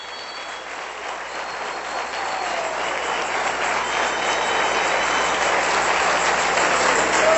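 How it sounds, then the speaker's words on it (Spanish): A church congregation breaks into applause that swells gradually, a broad, even wash of clapping growing louder over about seven seconds with no talk. "Dale un aplauso al Rey bendito."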